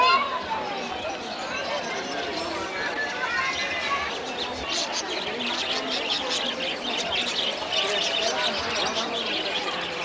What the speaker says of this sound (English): There are a lot of different kinds of birds here.